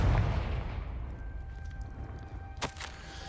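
A Confringo fire spell blasting in the Hogwarts Legacy video game, a loud booming burst at the start that rumbles and fades over a few seconds, followed by a brief sharper crackle.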